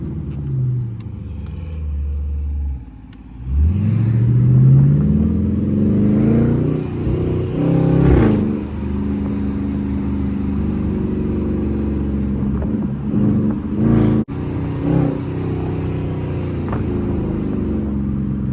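Dodge Charger R/T with its doors and hood removed, engine rumbling and revving as it drives, with loud surges and pitch sweeps rising and falling over a steady low drone, close and continuous.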